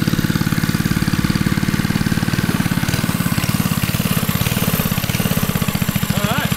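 An 80s Kawasaki mini bike with a brand new carburetor idles loud and close just after starting, a steady rapid single-cylinder putter throughout, with voices talking over it.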